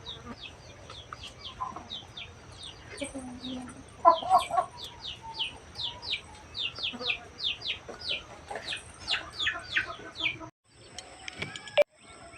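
A native village hen clucks repeatedly after laying her first egg. The rhythmic clucks run close and fairly loud with short calls mixed in, and a brief clatter comes near the end.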